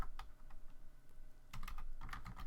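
Keystrokes on a computer keyboard as a prompt message is typed, coming in short bursts of clicks with a pause before a denser run of rapid taps, fairly close and with no voice.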